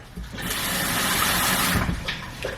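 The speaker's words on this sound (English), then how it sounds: "I'm going to take the juice from the pickled beets and pour it over the eggs" Pickled beet juice pours from a container over eggs in a kitchen, a steady rushing splash lasting about a second and a half, then tapering into lighter trickles and small clinks.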